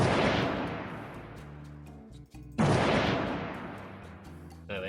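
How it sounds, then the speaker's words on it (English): Two booming cannon-shot sound effects, one at the start and another midway, each a loud blast with a long rumbling decay and no talking over them. "I need 2 cannon shots"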